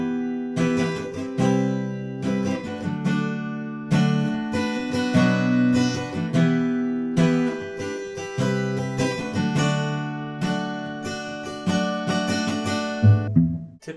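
Steady acoustic guitar strumming of the verse chords of a song, a bright rhythmic pattern repeating over about fourteen seconds, played alone and close up.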